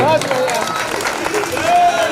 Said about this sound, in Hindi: जोरदार ताली बजा दो।